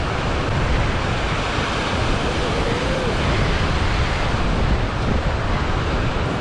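Surf breaking on Gunnamatta beach in Australia, a steady broadband wash of waves with wind buffeting, loud and continuous, no voices.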